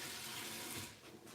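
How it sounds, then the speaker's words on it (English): Water running from a kitchen tap to rinse a utensil while cooking egg foo young, a steady close splashing gush that eases off slightly near the end. "I'm gonna rinse this off."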